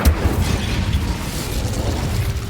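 A fire spell burst in Hogwarts Legacy flares with a sharp whoosh at the start, then a steady roaring rumble of flames holds for a couple of seconds, loud and close.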